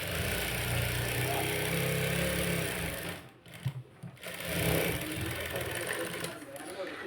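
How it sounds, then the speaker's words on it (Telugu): A sewing machine runs steadily while stitching the edge of a katori blouse, a continuous mechanical whir that briefly stops midway and then resumes, with a person speaking over it. "ఇప్పుడు ఎడ్జ్కి ఒక కుట్టు వేసేసుకోవాలి."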